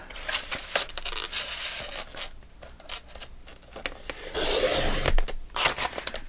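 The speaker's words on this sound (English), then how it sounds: "I'm going to go ahead and cut that off." Scissors cutting through paper for a junk journal page, a run of close scratchy snips and rustles with a louder tearing stretch near the end.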